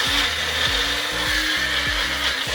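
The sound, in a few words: Magic Bullet blender blending seasonings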